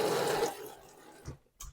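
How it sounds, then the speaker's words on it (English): Water from a tap runs into a sink being filled with hot soapy water, a steady broadband rush that fades away before a couple of brief clunks near the end. "let's fill this sink up with some nice hot soapy water."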